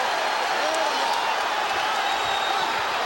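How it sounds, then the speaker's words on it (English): A packed boxing arena crowd of about 20,000 roars on its feet in a dense, continuous wash of cheering and shouts, loud and steady throughout, with a commentator's voice faintly mixed in. "Crowd on its feet."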